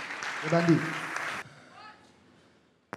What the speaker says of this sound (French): Acclamez, acclamez.